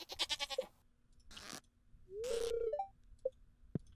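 Goats bleating on a farm in Stardew Valley: a wavering trill-like bleat, then a few short bleats and soft farm-game sound effects, spaced apart against a quiet background.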